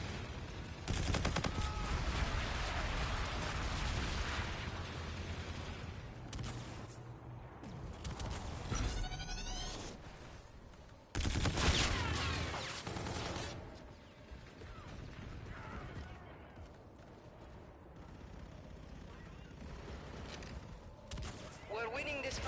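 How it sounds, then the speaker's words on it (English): Explosive bombardment in a Call of Duty match, dense bursts of blasts and gunfire-like cracks rolling loudly through the scene, with a game voice speaking over the barrage. "Enemy bombardment incoming."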